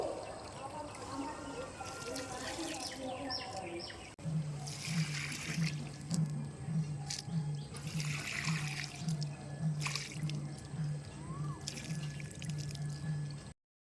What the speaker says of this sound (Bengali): তো গাছগুলোতে আমি একটু জল দিয়ে নেব।